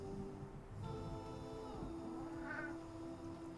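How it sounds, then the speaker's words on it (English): Cats roam around an art studio, giving a couple of faint meows over a steady hum of room noise, with no talk. "My cats are exploring my studio."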